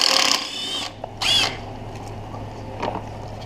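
A power tool works loose the alternator bolt on a 2007 Toyota Camry during a spark plug and valve cover job, two short close whirring bursts with a quiet pause between them.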